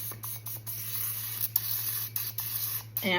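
Several short hissing bursts of aerosol cooking spray onto a skillet, close by, separated by brief pauses over a faint low hum.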